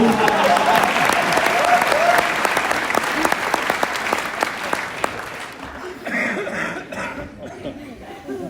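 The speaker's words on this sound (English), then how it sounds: "let's give Greg a round of applause" Sustained applause from a brass band concert audience, dense clapping for a soloist that fades out toward the end, with a few coughs and murmurs.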